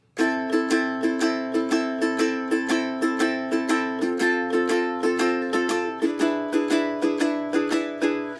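Acoustic guitar strummed in a swung down-up rhythm, a steady lilting, slightly galloping pattern of chords played close by with no talking.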